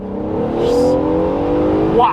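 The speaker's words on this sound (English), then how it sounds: "Wow, this car pulls so hard." A JDM car in track mode accelerates hard, its engine note loud and close, climbing steadily in pitch as it pulls through the gear.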